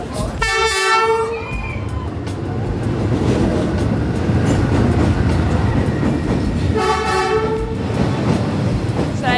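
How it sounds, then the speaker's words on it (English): A train rolls past at very close range with a loud continuous rumble and clatter of wagons, its horn blaring twice, once near the start and again near the end. "Looks like we're catching the train."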